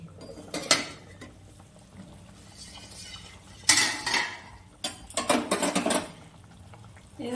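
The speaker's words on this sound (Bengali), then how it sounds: "এখন 2 মিনিট পরে ঢাকনাটাকে তুলে নিচ্ছি।" The lid is lifted off a cooking pot of hilsa fish with potato and brinjal, giving a few close metallic clanks and rattles spread across the moment, with quiet gaps between them.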